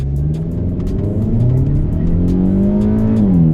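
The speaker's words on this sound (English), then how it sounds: "just gonna step on the gas and go." Hard standstill launch of a Hyundai N car on a track in eco mode without launch control, the engine note climbing steadily through the revs before a brief dip at the shift, loud and close with no talk.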